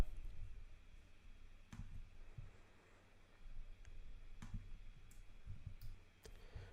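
A computer mouse clicking during a software setup: a few sharp, quiet single clicks spaced a second or more apart over a faint room hum.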